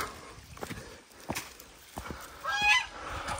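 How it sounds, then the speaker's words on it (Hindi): Waterfowl outdoors in a historical town in Pakistan giving several short honking calls spaced a second or so apart, fairly faint against background noise. "एक बतख भी नजर आई है जनाब"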